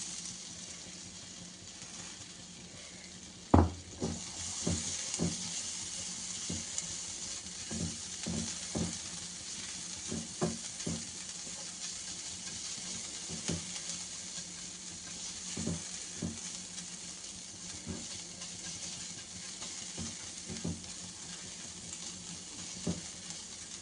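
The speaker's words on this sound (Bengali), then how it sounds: "তারপরে দেব ওই যে আদা রসুনটা কুটে রেখেছিলাম, এই যে এটা দিয়ে দেব।" Chopped ginger and garlic sizzle steadily in hot oil in a pan, with a sharp splash as they drop in. Irregular utensil knocks and stirring clatter follow, close and moderately loud, with no talking.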